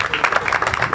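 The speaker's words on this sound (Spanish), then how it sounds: "Un aplauso para Sergio." A crowd claps at a racing team presentation event in Piera, giving a brief burst of dense, lively applause close by.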